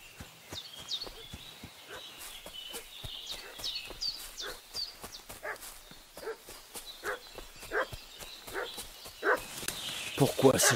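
Dog barking in the medieval role-playing game Kingdom Come: Deliverance II, repeated short barks against an ambient game soundscape with footsteps, growing louder toward the end, with a person talking over it.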